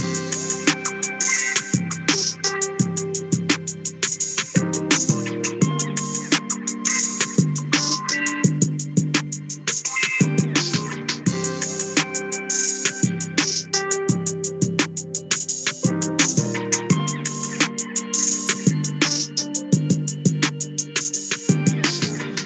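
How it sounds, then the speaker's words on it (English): A programmed drum pattern loops steadily with punchy kicks, crisp hi-hats and layered tonal hits, dense and continuous with no talking. "you should end up with a drum pattern that sounds like this"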